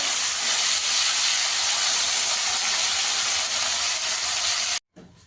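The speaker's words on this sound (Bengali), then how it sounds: "আগে শিমটা দিয়ে দেবো, সবজিগুলোকে সব ভালো করে ভেজে নেব।" Beans and vegetables fry in a hot pan, giving a loud, steady, hissing sizzle close up that cuts off abruptly near the end, with no talking.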